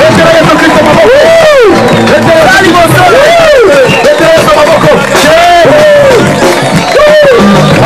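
A large congregation at an outdoor miracle crusade in Congo roars with cheers and acclamation, a dense wall of shouting voices, while a loud voice rises and falls over the crowd throughout.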